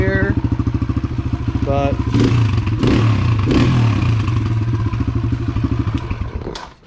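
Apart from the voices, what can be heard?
Kawasaki KLX140 dirt bike engine running with stock exhaust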